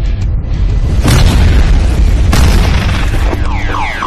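A loud, deep boom with heavy rumbling, followed by a second blast, then a wailing car alarm rising and falling at the end.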